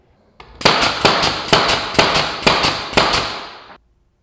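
A Milwaukee 18-gauge Gen 2 brad nailer fires seven sharp, loud shots into primed pine at an even, quick rhythm, close up with no talking.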